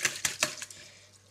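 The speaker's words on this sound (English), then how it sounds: "Just give it a good whisk" A whisk beats a raspberry jelly mixture in a bowl, giving several quick, crisp clinking strokes close by that thin into a softer swish.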